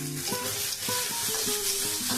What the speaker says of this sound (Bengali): এবার পেঁয়াজটা আমার ভাজা ভাজা হয়ে আসছে, আর একটু ভাজা হবে।